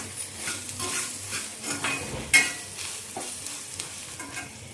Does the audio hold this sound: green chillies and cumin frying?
yes